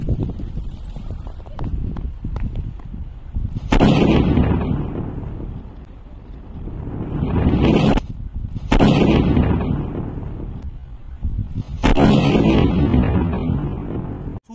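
Sutli bomb firecrackers tied to a Sting energy drink bottle go off outdoors in several loud, booming blasts. Each blast is followed by a long, roaring noisy tail.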